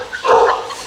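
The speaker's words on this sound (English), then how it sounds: "we got dogs going on over here" Dogs bark in short, rough bursts close by in a home kitchen where zucchini cakes are being cooked. No voices are heard over the barking.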